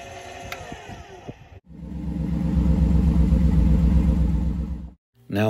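A pickup truck engine starts after a few clicks and rustles, then settles into a loud, steady, close rumbling idle for several seconds before cutting off abruptly.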